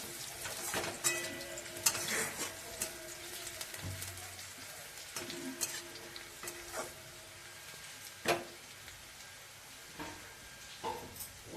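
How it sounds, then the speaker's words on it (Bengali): Onion and garlic paste fries in a kadai during home Bengali cooking, giving a soft, steady sizzle broken by sharp crackles and light spatula clicks. "পেঁয়াজ রসুন সব ভাজা হয়ে গেছে"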